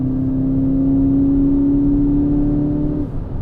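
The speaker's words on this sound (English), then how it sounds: "And in sports mode, there is a V8 sound" A Kia Optima Sportswagon GT with its 245 hp engine drones steadily in sports mode, a synthetic V8 tone piped through the speakers, loud and close, holding one pitch before easing off near the end.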